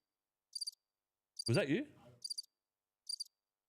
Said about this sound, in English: have we got crickets?